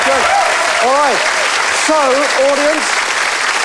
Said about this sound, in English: Round of applause for Jenny.